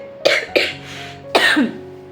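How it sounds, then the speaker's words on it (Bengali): Three sharp coughs, two quick ones close together and then a third after a short pause, loud and near with no talking. "তো এখনও কাশি আছে"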